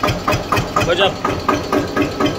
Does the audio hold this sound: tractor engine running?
yes